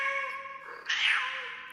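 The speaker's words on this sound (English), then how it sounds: "I'm merely demonstrating that this shows the cat's meow." A cat lets out a single drawn-out meow that rises in pitch partway through, close and clear against a quiet background.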